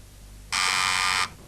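A single loud electronic buzz from a quiz show buzzer on a university quiz final, lasting under a second and sounding clear against a quiet room.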